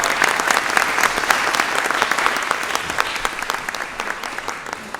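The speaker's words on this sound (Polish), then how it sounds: "Brawa dla pana dyrektora." An audience in a school hall claps for the school director during a patron's day ceremony at a secondary school. The applause is dense and continuous and eases off slightly toward the end.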